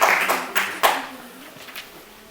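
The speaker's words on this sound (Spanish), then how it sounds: "Recibimos entonces con fuerte voto de aplausos para el doctor Héctor González Otairo" An audience at a university health talk clapping to welcome a doctor, a short burst of a few sharp, separate claps that quickly thins out and fades.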